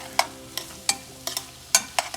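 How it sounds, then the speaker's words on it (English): Butter dropped into a hot pot for clam chowder, giving a few short, sharp sizzling bursts and crackles spaced irregularly, fairly close and with no talking over them. "At this point, we're gonna put our butter."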